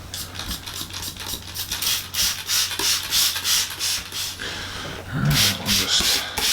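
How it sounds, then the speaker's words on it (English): Steady close scrubbing strokes of light sanding on an Epiphone SG guitar body under refinishing, rhythmic back-and-forth rubbing that continues throughout. "it's time for a little sandy"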